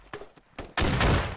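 Gunfire in the tactical shooter Squad, a few scattered shots followed by a sustained loud burst of rapid firing, close and without talk.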